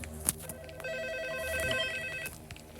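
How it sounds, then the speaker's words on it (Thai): A cartoon telephone rings with a steady, electronic tone that holds for a couple of seconds, fairly quiet against a faint background. "ฉันควรรับโทรศัพท์"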